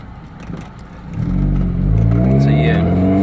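Mazda Miata MX-5 engine with the gas pedal floored during a clutch test on a steep hill, revving up loudly after a second of quieter idle and holding a strong, rising drone to the end.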